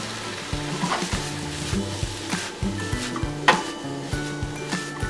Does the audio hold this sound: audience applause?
no